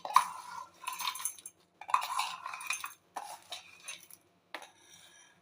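Spoon scraping and clinking against a metal mixer jar while transferring sambar masala spice mix, in several short bursts separated by pauses, with no talking.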